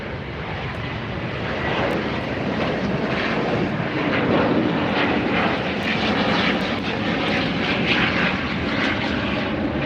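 A big jet airliner at LAX airport roars close by, a dense, steady, broadband engine rumble that holds loud for the full ten seconds without any voices.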